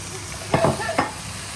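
Seafood with holy basil stir-fries in a pan, a steady sizzle broken by a couple of quick scraping stirs of the spatula.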